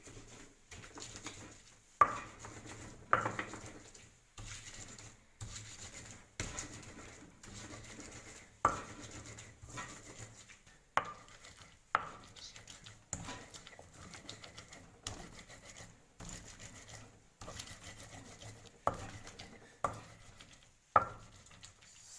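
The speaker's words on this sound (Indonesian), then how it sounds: "Selanjutnya, haluskan bawang putih" Peeled garlic cloves being ground by hand, a series of soft rhythmic pounding and scraping strokes repeating roughly every second or so, close and fairly quiet with short pauses between, no speech.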